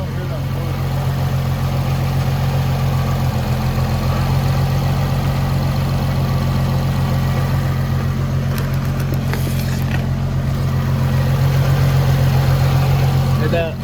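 A Nissan VQ35HR engine from JDM New York idles steadily at its first start-up, a loud, close, even drone that holds throughout, with brief muffled voices in the background.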